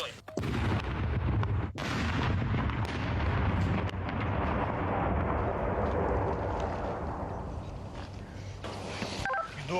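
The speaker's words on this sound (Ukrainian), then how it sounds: "Знищення вибухонебезпечного предмету буде проводитися контрольованим підривом, а саме електричним способом." A heavy blast booms out at the start from a controlled electric detonation of explosive ordnance in Ukraine, followed by a long rumbling roar and crackling debris that slowly fades, with sharp cracks scattered throughout.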